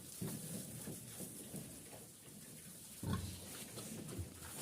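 Small pigs and piglets grunt in low, short snorts at a few moments, faint against a hissy background.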